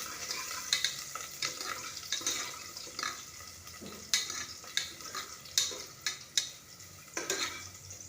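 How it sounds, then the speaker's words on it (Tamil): Onions sauté in a pan until golden for sambar, a low sizzle broken by sharp spatula scrapes and taps at an uneven pace, close up with no voices. "நல்லா வதங்கட்டும் கோல்டன் கலரில் வரட்டும் வெங்காயம்"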